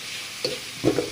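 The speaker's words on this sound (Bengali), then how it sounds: "ঝাল আর পেঁয়াজ ভেজে নিচ্ছি।" Chilli, onion, cumin and turmeric powder fry in a pan with a soft, close sizzle, broken by brief stirring scrapes, over a short moment.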